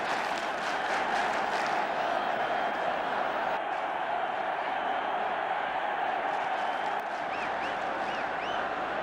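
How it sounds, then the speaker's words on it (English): Dense roar of a 1970s football stadium crowd during fighting on the terraces, a continuous wash of shouting and chanting at a distance, with scattered whistles and cheers. "And still the fighting going on the terraces."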